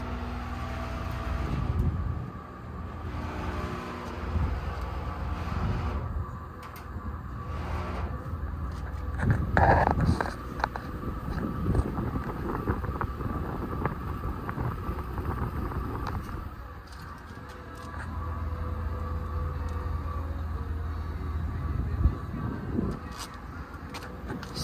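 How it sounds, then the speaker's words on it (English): A powerful outdoor air conditioner fan runs with a steady, loud whooshing hum, with wind buffeting the microphone and brief scraping, and a person speaks now and then. "This one right here is a powerful fan."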